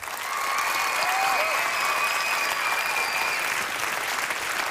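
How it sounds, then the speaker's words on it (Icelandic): A large crowd at a live televised song-contest event in a shopping-centre hall applauds steadily, a dense, loud wash of clapping that swells in and holds for several seconds with faint whistles on top. "Eigum við ekki að gefa þeim gott klapp?"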